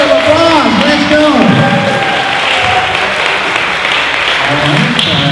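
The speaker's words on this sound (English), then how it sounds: "Let's give him a big round of applause." A crowd applauds and cheers for the grand prize winner of a 2021 classic Corvette giveaway at a winner party. The clapping is dense and steady throughout, with voices calling out over it early on.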